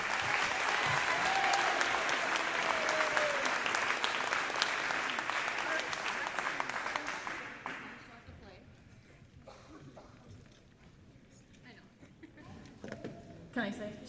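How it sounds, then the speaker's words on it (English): Audience applause at a high school marching band fall concert, a loud sustained round of clapping from a crowd that fades to scattered claps and murmurs midway. "Could you give them another round of applause,"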